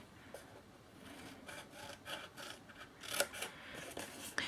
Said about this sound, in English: you're going to trim the edge, or trim that score line just to meet the next score line